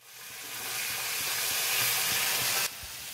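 Green chillies and five-spice phoron sizzle in hot oil, a loud, steady frying hiss that swells and then drops slightly near the end, with faint stirring knocks underneath.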